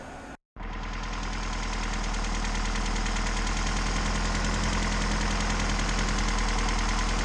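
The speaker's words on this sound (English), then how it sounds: "we turned on the motor and it runs" A Mazda Miata engine, recently rebuilt, starts after a brief silence and then runs steadily at idle, a loud continuous mechanical drone with a faint knocking texture and no talking.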